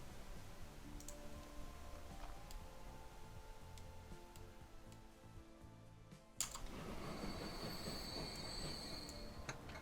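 Train rolling along rails in the Transport Fever 2 game, a steady low rumble of wheels with faint ticking, growing louder and brighter partway through as wheel squeal and clatter take over.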